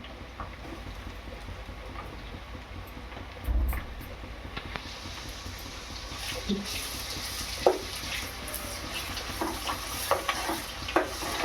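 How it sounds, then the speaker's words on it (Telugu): Ginger and garlic fry in oil in a pan, a steady soft sizzle running throughout with occasional stirring clicks and scrapes, moderately close and free of talk. "అల్లం తెల్లగడ్డ ఒక రెండు నిమిషాలు లేదా ఒక నిమిషం పాటు వేయించుకుందాం"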